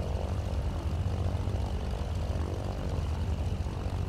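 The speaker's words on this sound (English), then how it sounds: "so the right engine sounds a bit louder here in the cockpit." Steady, continuous drone of a Cessna C414AW Chancellor's twin propeller engines heard from inside the cockpit in a flight simulator, the right side window open, a constant low rumble without talk.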